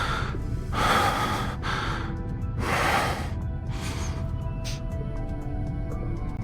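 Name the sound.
character's breathing in the video game Love and Deepspace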